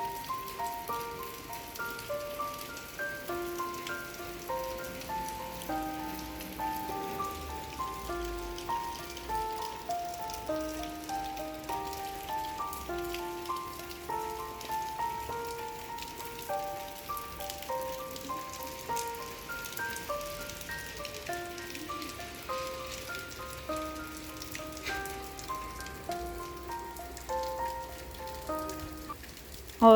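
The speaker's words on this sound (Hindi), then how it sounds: "और ये जो बारिश की आवाज़ है ये बहुत ज़्यादा सुकून देती है।" Heavy evening rain falls steadily in a continuous dense patter, with soft background music tones drifting underneath and no voices.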